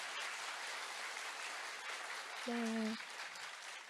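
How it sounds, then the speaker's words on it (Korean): An audience at a science lecture event applauds as a broad, even patter throughout, and a short spoken word briefly rises over the clapping. "우렁찬 박수 감사합니다"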